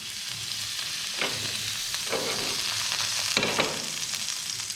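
A slice of bread fries in melted butter in a pan, giving a steady close sizzle with a few brief scraping bursts as it is moved.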